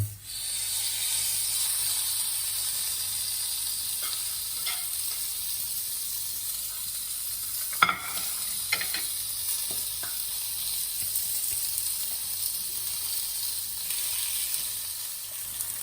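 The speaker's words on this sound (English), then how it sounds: "when you're done seasoning your salmon and the pan is really hot, you take it and you place it gently on the pan" Seasoned salmon sizzles in a very hot pan, a loud continuous hiss and crackle close up, with a sharp burst as the fish meets the pan and scattered pops afterward.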